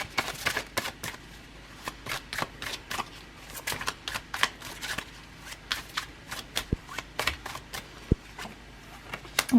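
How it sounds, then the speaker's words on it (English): Tarot cards being shuffled and pulled from the deck in a quick, steady run of crisp riffling flicks, close and clear over a faint room hum, with no talking. "we're going to go ahead and pull out a few cards"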